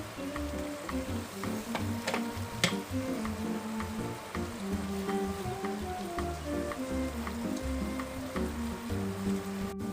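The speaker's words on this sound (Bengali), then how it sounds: "এটাকে এবার ভালো করে আমরা মশলাটাকে কষে নেব" Masala for Bengali ghugni sautés in a pan with a steady low sizzle and a few sharp clicks from utensils, while quiet background music plays underneath.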